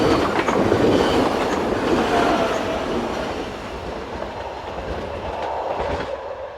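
A Dutch IRM intercity electric train unit, heading south from Amsterdam, rumbles past nearby with steady wheel clatter and roar that slowly fades toward the end.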